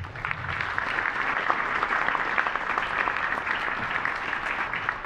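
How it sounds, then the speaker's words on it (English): A school Veterans Day ceremony crowd gives the guests a round of applause: dense, sustained clapping from many hands fills the room at an even, steady level throughout. "let's give a round of applause to all of our guests"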